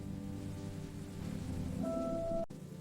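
Rain falling on an old car during a monsoon, a soft steady patter and hiss on the body that stops abruptly near the end, with a brief tonal whine just before.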